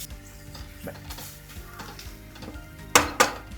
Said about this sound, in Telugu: అల్లం వెల్లుల్లి పేస్ట్ పచ్చి వాసన పోయేంత వరకు ఫ్రై చేయాలి